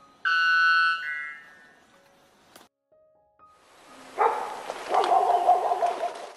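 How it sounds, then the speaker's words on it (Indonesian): A wolf gives a few rough, close barks in quick succession, following a brief high tonal call, in an animal sound quiz. "Bukan, ini adalah gonggongan serigala."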